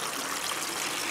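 Water trickling and pouring steadily into a seed tray of pansy seeds, watered from below to about half an inch of depth, a soft continuous splashing flow with no voices.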